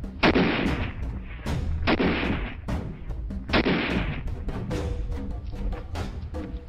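Wartime weapons fire in a series of loud, booming artillery and mortar blasts with echoing tails, interspersed with sharper gunshots, each discharge heavy and reverberant.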